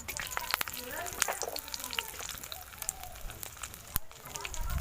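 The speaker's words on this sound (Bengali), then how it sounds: "তেল দিয়ে দিচ্ছি দেখুন তেলটা গরম হয়ে গেছে এখানে দারুচিনি এলাচ আর লবঙ্গ যে থেটা করে রেখে দিয়েছিলাম দিয়ে দিচ্ছি" Cinnamon, cardamom and cloves crackle and sizzle in hot oil in a pan, a dense close spatter of pops and hiss that continues throughout, with a voice faintly present underneath.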